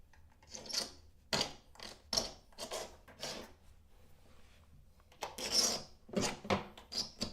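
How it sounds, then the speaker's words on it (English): Rasping strokes of a tool scraping out old caulk in a home repair job, coming in repeated separate passes with short gaps, close and fairly loud, with no voices. "I gotta get rid of the old caulk."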